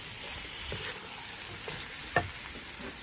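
Chilli paneer sizzles and fries steadily in a pan, a soft continuous hiss with light stirring scrapes and one brief clatter of a utensil against the pan.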